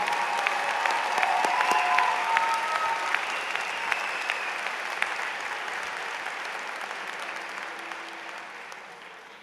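A crowd at the Highlands Ranch High School 2025 graduation ceremony applauds in a long, steady roar of clapping with a few cheers, slowly fading in the final seconds.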